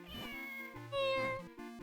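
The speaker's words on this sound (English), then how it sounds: "Hello, kitty." A cartoonish cat meows in The Legend of Zelda: The Minish Cap, a short melodic call rising over looping game music, clear and close, with no talk.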